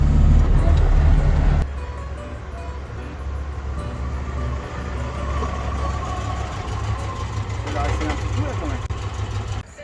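A GAZ Volga car engine running steadily with a low, continuous rumble, loud and close after a brief louder burst at the start, with people talking over it.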